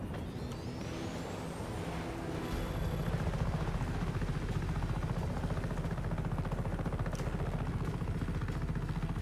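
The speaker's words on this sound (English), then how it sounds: "Actually, hold on. I need that helicopter." A helicopter in the video game Just Cause 3 thrums with a steady, rapid rotor pulse over a continuous engine roar, loud and unbroken throughout with no talk.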